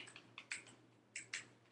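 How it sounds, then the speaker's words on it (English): Fingers type on a computer keyboard in a quiet room, giving a few short bursts of light clicking keystrokes with brief pauses between them. No one speaks. "I'm typing it here"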